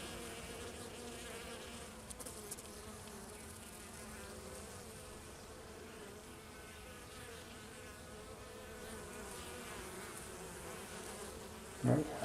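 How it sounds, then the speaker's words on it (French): Honey bees fly in and out at a hive entrance on a warm day of around 30 degrees, carrying yellow pollen, likely dandelion. Their steady, dense buzzing drones evenly throughout, with a brief louder knock near the end. "il y a des abeilles qui rentrent du pollen"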